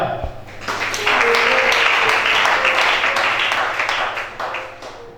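A congregation at a prophetic church gathering in Gabon breaks into applause and cheering; it swells after a brief pause, holds loud and full, then fades toward the end, with a sustained tone running underneath.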